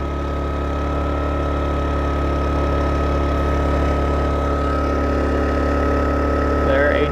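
A Honda 2200 portable generator engine running steadily after auto idle is switched off, a loud, constant droning hum with a strong steady tone, and a voice talking over it.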